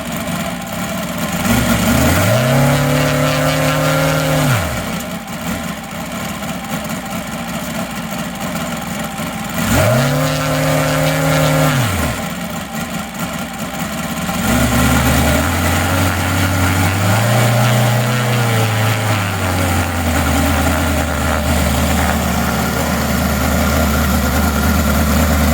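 A UMS 7-90 seven-cylinder radial gas engine for a model aircraft runs loud and close, its steady idle broken by two sharp rev-ups that fall back, then a long rising and falling throttle run with no voices.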